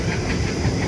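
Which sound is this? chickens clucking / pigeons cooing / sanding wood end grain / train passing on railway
train passing on railway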